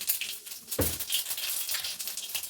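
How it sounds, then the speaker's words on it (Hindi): Steady crackling sizzle of cumin seeds in hot oil for a tempering, with a brief stirring clatter partway through and no voices. "जीरे का तड़का लगा दिया।"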